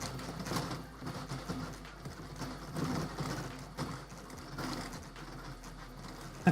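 A freshly built the100 3D printer runs a fast print test on a workbench, giving a busy, rapid rattling and whirring of motors with rhythmic clatter that continues steadily and fairly close.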